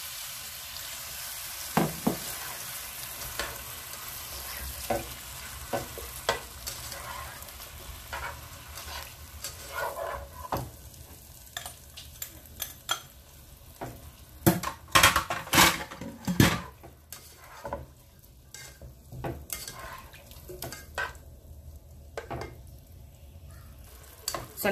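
Broccoli, shrimp and garlic sauce stir-fry in a hot pan, a continuous close sizzle with clattering utensil scrapes and bursts of louder tossing toward the middle, with no one talking.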